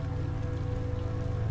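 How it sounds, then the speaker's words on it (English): Rain falls steadily in the video game Typoman: Revised, a dense, continuous hiss of drops with an even low rumble beneath and no voices. "Add rain."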